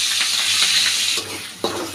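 Chili, onion, garlic and ginger frying in hot oil with potato and pointed gourd, a close, steady sizzle with stirring, briefly dipping then surging back loud as the pan is worked; no talking.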